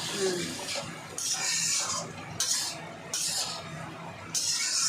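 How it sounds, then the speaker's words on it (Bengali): Prawns are stirred in a pan over a high flame, a metal spoon repeatedly scraping and clinking against the pan in a steady rhythm of strokes, with a soft sizzle underneath. "হাই ফ্লেমে রেখে ওটাকে ভালো করে কষতে হবে"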